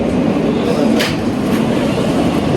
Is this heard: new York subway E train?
yes